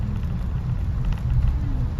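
Heavy rain pours down in a steady, unbroken hiss over a low rumbling undertone for the full stretch, with no voices present.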